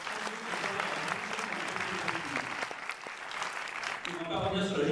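Audience applause fills the room at the opening of the Paris International Fantastic Film Festival. The clapping is steady and sustained, with a few louder claps and some crowd murmur near the end.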